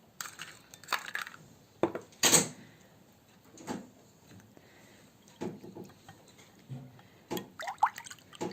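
Two eggs cracked and handled for crepe batter in a quiet kitchen, a series of small sharp cracks and clicks scattered across several seconds, with soft wet dripping sounds between them.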